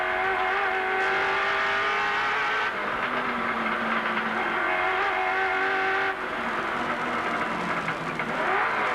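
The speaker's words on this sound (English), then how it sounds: "we'll see what lap times Larry Perkins can circulate the Holden Commodore in" A Holden Commodore race car engine roars at full throttle during a 1991 touring car race on a Wellington street circuit, a loud, sustained drone with gear changes shifting the pitch, mixed with other cars nearby.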